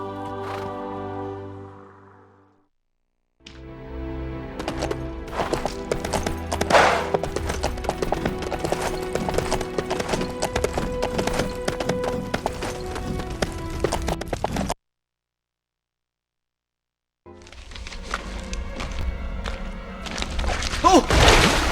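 Horse hooves clip-clop at a steady gallop in the LEGO Lord of the Rings video game, loud and close, running in two long stretches separated by brief silent gaps.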